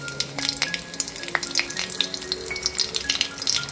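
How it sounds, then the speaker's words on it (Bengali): Panch phoron sizzles in hot oil with dried and green chilies, giving a continuous close frying hiss dotted with quick crackles and pops. "পাঁচফোড়নটা ভালো মতো একটু ভাজা হয়ে গেলে তার মধ্যে আমি এখানে কাঁচা লঙ্কা, আর এখানে এই যে শুকনো লঙ্কা"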